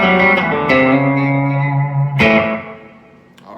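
An electric guitar with a B-bender plays an open A section country lick, with bending notes that glide between pitches, ringing strings and a few sharp plucked attacks, treated with effects and reverb, heard alone.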